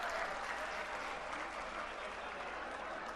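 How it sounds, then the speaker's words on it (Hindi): Loud, steady applause from a large crowd at an Aam Aadmi Party public rally in Delhi, greeting Arvind Kejriwal, dense clapping continuing without a break throughout, with no one speaking over it. "जोरदार तालियों से स्वागत किया अरविंद जी का।"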